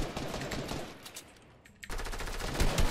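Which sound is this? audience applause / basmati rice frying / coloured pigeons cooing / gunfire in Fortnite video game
gunfire in Fortnite video game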